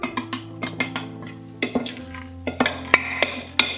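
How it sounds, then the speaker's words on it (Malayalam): A spoon stirs fenugreek powder into a mango pickle in a metal vessel, making a run of close, sharp scraping clinks at an uneven pace, alone with no talk. "നേരത്തെ അളവൊക്കെ പറഞ്ഞിട്ടുണ്ടായിരുന്നല്ലോ, അതും കൂടി മിക്സ് ചെയ്യാം"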